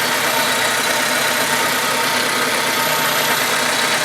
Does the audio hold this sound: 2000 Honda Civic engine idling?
yes